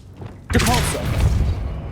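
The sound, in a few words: Depulso spell cast in Hogwarts Legacy video game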